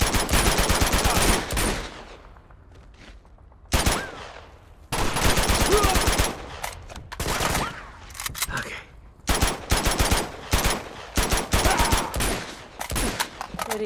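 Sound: gunfire in the video game Uncharted: Among Thieves

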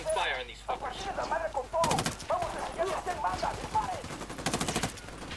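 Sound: assault rifle gunfire in video game Ghost Recon Wildlands

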